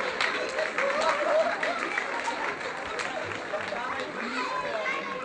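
An outdoor crowd in the Polkowice market square, celebrating the women's basketball team's Polish championship, applauds coach Krzysztof Szewczyk with continuous, slightly distant clapping and chatter under an announcer's voice.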